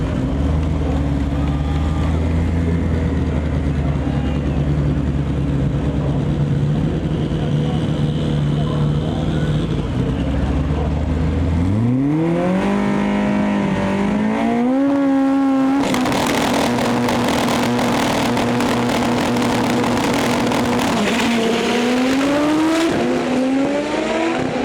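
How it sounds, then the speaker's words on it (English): Drag race with an EG Honda Civic facing an SRT4: engines idle loudly, then surge in rising shifting revs as the cars launch, with wind and crowd noise, loud and sustained throughout. "Nicole Elf in our lane here with her EG Civic going up against Bradley Dillon, the only domestic in the class driving an SRT4."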